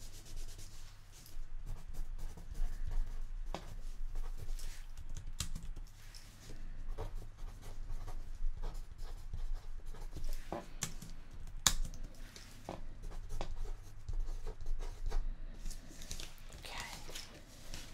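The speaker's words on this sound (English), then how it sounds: "So, I'm going to write down your account number here." Close, soft scratching and rubbing of a pen writing an account number on paper, with faint rustles and light taps in a quiet binaural room, intimate and low in level.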